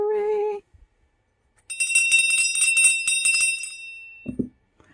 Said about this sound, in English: I don't know why 3 needed a longer bell, but they did.